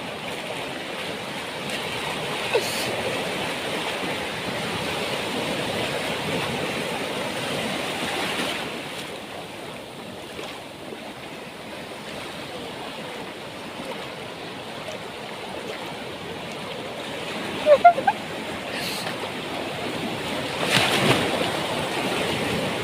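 Sea waves wash continuously at a swimming beach, a steady, fairly loud broadband roar with gentle swells and a few brief louder splashes, no talk.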